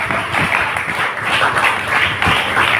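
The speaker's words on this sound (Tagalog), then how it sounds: "Palakpak sa Panginoon mga kapatid." Church congregation clapping during a worship service, a dense, steady wash of many hands applauding together at close range, sustained throughout without speech.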